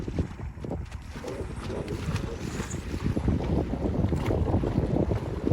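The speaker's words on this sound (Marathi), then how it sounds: "बोट गरम करून झाली आहे" A jet ski engine idles and runs on the water at Hirakud, giving a steady low rumble mixed with wind buffeting the microphone, close and continuous with no voices.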